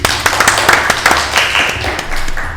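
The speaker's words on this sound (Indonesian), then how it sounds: "Tepuk tangan sih Mas." Several people clapping hands in a steady burst of sharp, close claps during a campus organization podcast, with slight irregular rhythm and no speech over it.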